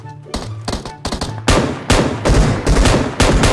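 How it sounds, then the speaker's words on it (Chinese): Gunfire in the mobile shooter Game for Peace: rapid bursts of loud shots, sparse at first and then dense and heavy. "你听这个枪声，看见没有？"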